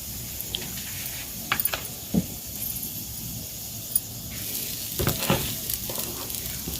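Beaten egg sizzles steadily in hot oil in a pan as it cooks, a faint continuous frying hiss with a few soft clicks of utensils, no voices.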